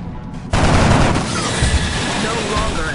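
Gunfire in the XCOM Enemy Unknown game breaks out suddenly as a dense burst of shots with booming impacts, loud and sustained, with a voice over part of it.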